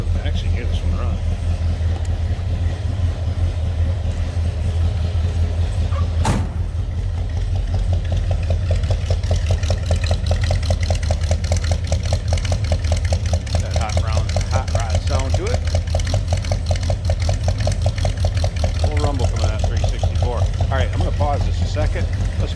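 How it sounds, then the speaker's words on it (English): A 1960 Buick LeSabre two-door bubbletop idles from behind the car, a steady low rumbling exhaust note with a sharp click early on, while someone talks over it. "let's look around the back so you can hear this one run"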